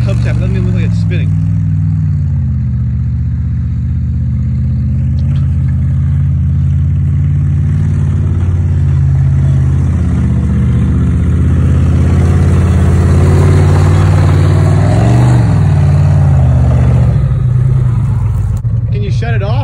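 A Cadillac engine drones loud and steady while the car spins, a low throbbing rumble that swells slightly in revs near the end, with wind-buffeted outdoor noise throughout.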